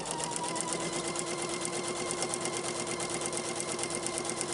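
A sewing machine stitches binding onto a quilt, running in a steady, even whir with rapid needle ticks throughout, close and continuous with no pauses.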